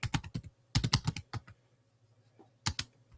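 Fingers type on a computer keyboard in quick bursts of crisp, close key clicks, a dense cluster at the start, another in the middle, and a final flurry after a short pause.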